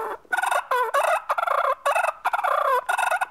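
A turkey call imitating a wild turkey, sounding a series of rapid, warbling gobbles in several bursts with short pauses, loud and close.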